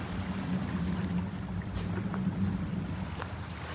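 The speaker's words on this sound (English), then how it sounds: "These boats are just taking people right along the beach down here." A steady low engine drone from a tour boat running along a Gulf beach, constant and moderately close, with wind noise and no talking.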